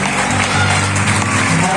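Church congregation applauding during a sermon, a loud, dense wash of clapping filling the space with some voices mixed in.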